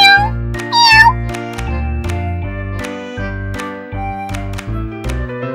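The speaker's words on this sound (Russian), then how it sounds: "Кот." A cat gives one short, rising meow near the start, set against a bright plinking melody and deep rhythmic bass notes of a children's alphabet song.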